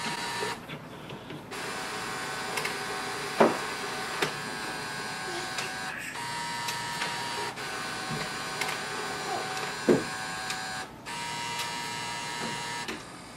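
Steady mechanical whirring of an HP OfficeJet Pro 9010e office printer scanning multiple pages, with a few sharp clicks and clunks at intervals, moderately close.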